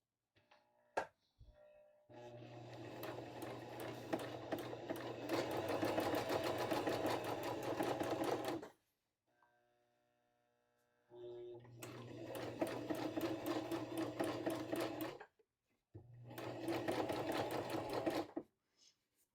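Sewing machine stitching a three-step zigzag on fabric for an abutted seam, three bursts of fast, close mechanical clatter separated by brief pauses, with a voice talking in the gaps.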